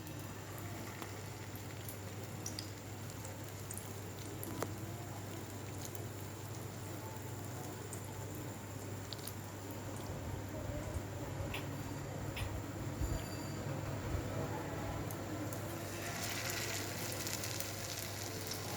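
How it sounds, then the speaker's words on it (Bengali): Gram flour battered balls of marinated potato and egg pakora frying in hot oil, a steady dense sizzle that continues throughout with faint popping, no talking. "এবার আমি একটা একটা করে এটা তেলে ছাড়বো।"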